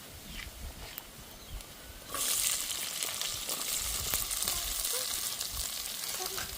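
Small shallots drop into hot oil in a pan and the sizzle jumps sharply, then holds as a loud, continuous crackling fry with a few stirring scrapes.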